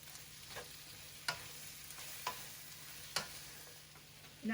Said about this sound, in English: Now I'm going to add the beef in.